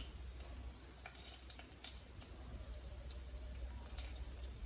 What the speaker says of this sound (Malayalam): എണ്ണ ചൂടായി ഇതിലേക്ക് നമുക്ക് കുറച്ച് ഉലുവ ചേർക്കാം